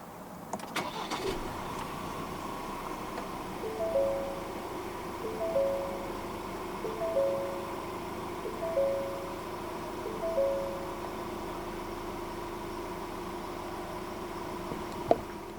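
A 2023 Ford Ranger 2.0 4x4 Wildtrak double cab starts by push button and settles into a quiet idle, with a soft repeating chime pulsing several times over the low engine hum.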